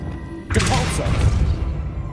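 A Depulso force spell cast in the Hogwarts Legacy video game: a sudden loud whooshing blast with a thudding impact, followed by a rumbling, crackling tail that fades over about two seconds.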